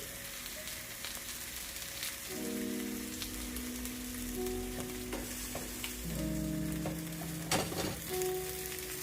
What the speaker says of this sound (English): Hear the sizzle, Diva.